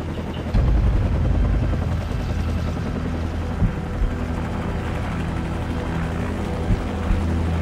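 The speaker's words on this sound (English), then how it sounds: "Take out that helicopter. It'll buy us some time." Military helicopter from the Call of Duty 4: Modern Warfare game flying close by, a steady loud rotor drone with low thumping throughout and a few sharp bangs near the end.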